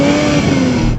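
Toyota GR Supra sports car engine revving, a brief, loud and steady engine tone with a buzzing edge, heard up close for about a second.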